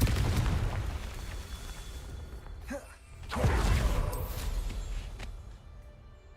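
Confringo spell blasts in the video game Hogwarts Legacy, with two booming bursts that swell and fade over a low, rumbling game soundscape.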